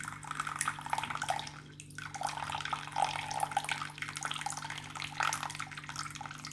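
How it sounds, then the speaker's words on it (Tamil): Water pours steadily into a small bowl set inside a larger one for an ice bowl, a continuous splashing trickle with a low hum underneath and a brief pause midway, fairly quiet and close. "அதுலேயும் கொஞ்சம் தண்ணி சேர்த்துக்கோங்க."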